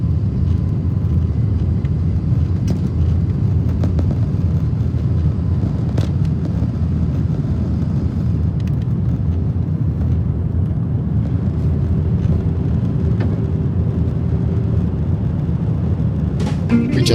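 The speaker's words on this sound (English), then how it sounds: "enjoy our first ever takeoff on a Chinese-made airplane" Loud, steady low roar of jet engines heard from inside a Chinese-made airliner cabin during takeoff, a continuous rumble with faint rattles and no talking.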